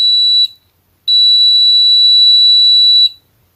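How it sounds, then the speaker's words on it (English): A multimeter continuity buzzer sounds a loud, piercing electronic tone in two bursts, a short one then a longer one of about two seconds, each cutting off sharply into silence. "When you press the switch, you should hear a buzzer."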